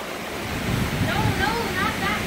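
Hurricane Irma's wind gusts roar as a steady, broadband rush that swells and surges throughout, loud and close to the microphone, with faint voices partly buried beneath.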